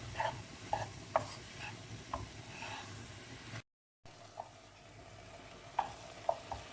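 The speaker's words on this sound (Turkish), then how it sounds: "Ve mantarlar suyunu çekene kadar karıştıralım." Mushrooms and two cloves of garlic stirred in a pan while cooking, a soft continuous sizzle broken by light, irregular scrapes and taps of a spoon, with a brief silent gap midway.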